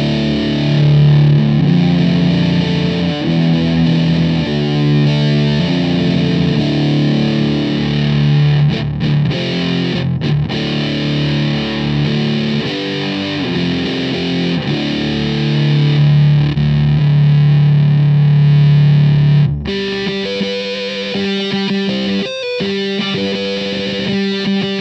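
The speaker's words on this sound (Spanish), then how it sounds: "Vamos con el triángulo, que es, como lo había dicho, es la primera versión del Big Muff." Loud, saturated electric guitar through an Electro-Harmonix Big Muff triangle-version fuzz pedal, the first Big Muff version, playing sustained distorted chords and riffs for about twenty seconds, then a thinner, choppier passage near the end.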